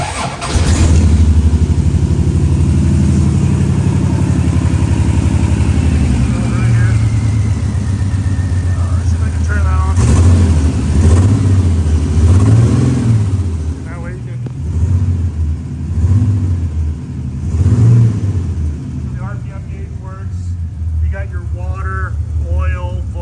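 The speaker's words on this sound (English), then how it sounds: "I'm gonna go ahead and fire up the car here." A Playtech sandrail five-seater buggy engine cranks, catches and idles roughly, then revs up in repeated rising and falling surges close by, with someone talking over parts of it.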